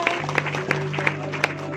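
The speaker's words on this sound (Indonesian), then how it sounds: "Mari berikan tepuk tangan yang terbaik buat Tuhan kita." Steady rhythmic clapping from a congregation at an outdoor church service, claps landing at an even beat over a sustained musical tone.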